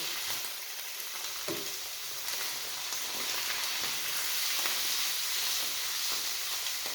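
Spinach and kale cooking in a pan, a steady close sizzle and crackle of frying greens with a brief stirring scrape, no voices.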